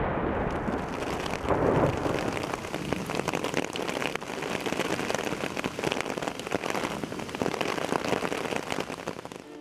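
Heavy rain pours down in a dense, roaring downpour on the Ural hillside, a loud continuous wash of drops with gusty surges, no voices.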